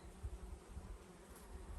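Bees hum steadily around fragrant trees along a hiking trail, a soft, continuous buzzing close by with no voices over it.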